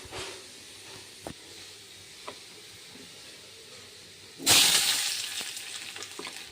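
A steady low sizzle of oil in a wok with a few sharp clicks, then a loud burst of frying as potato and pointed gourd hit the hot pan, settling into a bubbling crackle.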